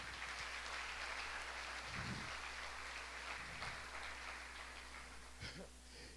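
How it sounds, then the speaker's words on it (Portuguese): A church congregation applauds during a sermon, steady soft clapping spread across the whole stretch, fairly faint and even, with a few low thumps. "Quem pode dar uma salva de palmas para o Senhor Jesus?"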